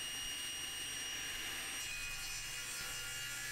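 A saw fitted with a 40-tooth Amana blade cuts wood stock to rough length, giving a loud, steady, continuous rasping whine up close for several seconds.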